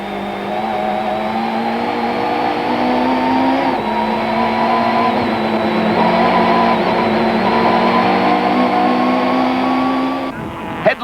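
Loud, sustained engine roar of 1994 South African Super Touring race cars speeding past at East London, a steady droning whine that holds for several seconds before cutting off abruptly near the end.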